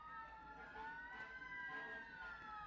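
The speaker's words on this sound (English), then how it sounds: "So Yes. you guys will hear the sirens there in the background." Emergency sirens wailing in the distance, rising and falling tones overlapping, fairly faint with a low background rumble.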